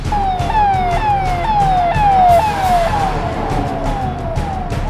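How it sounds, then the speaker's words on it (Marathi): Ambernath fire brigade fire engine racing to a chemical company fire, its wailing siren sweeping up and down in a rapid repeating cycle, loud and close over traffic rumble. "यानंतर अवघ्या काही मिनिटातच अंबरनाथ अग्निशमन दलाची गाडी या ठिकाणी सर्वप्रथम दाखल झाली।"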